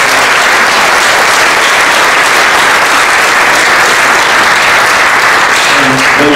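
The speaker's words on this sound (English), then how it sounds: "please give them all a round of applause" Large audience at a panel discussion on the land grant university legacy applauds the panelists, a very loud, dense, unbroken roar of clapping that stays constant from start to finish, close and filling the hall, with a faint voice near the end.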